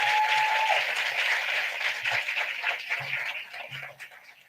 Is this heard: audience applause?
yes